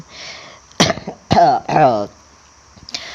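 A cough from someone out by the water, a few loud harsh bursts clustered mid-clip with voiced tails, close and fairly loud, with a short faint sound after.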